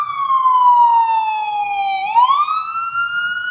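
An emergency vehicle siren wails loud and close on a downtown Los Angeles street, one long falling tone that swoops back upward as it passes, no talking.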